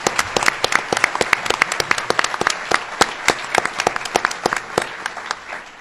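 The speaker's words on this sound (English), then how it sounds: "So give him a round of applause, Sam Hoyt" Audience applause at a governor's announcement of a development project agreement: a moderate crowd clapping steadily in a room, sharp individual claps over a continuous wash that tapers off toward the end.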